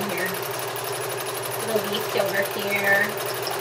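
A sewing machine stitches a leaf design onto a fabric collage, giving a fast, steady mechanical whir with a rapid needle rhythm, close by, while a person talks over it.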